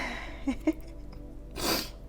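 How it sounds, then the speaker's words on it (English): A single sharp sneeze bursts out near the end, preceded by a couple of short breathy catches. "I want to sneeze."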